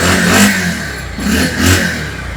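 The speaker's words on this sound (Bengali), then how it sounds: "খুব সুন্দর সাউন্ড একটা ইঞ্জিনের" A used motorcycle engine on test revs twice in quick succession, loud and close, each throttle blip swelling and falling back with a mechanical rumble.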